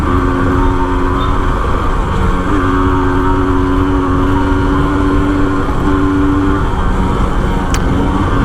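A Honda CDI H100S motorcycle ridden on a long road tour, a loud continuous engine drone with steady tonal hum and slight pitch shifts, close and alone without talk.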